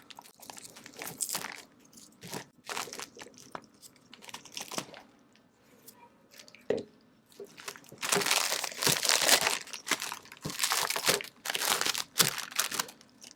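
A plastic media bag crinkles and rustles as it is positioned on a filtration instrument, with bursts of crumpling and handling noise that come and go, then grow busier and louder toward the end. There is no talk.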